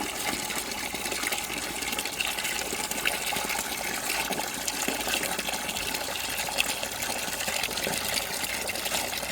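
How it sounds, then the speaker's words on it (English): Water gushes steadily from a tap or hose into a bucket being filled for mixing fertilizer with an injector, a continuous broadband rush that holds at an even level throughout, with no talking. "let's run that water in here and fill it up"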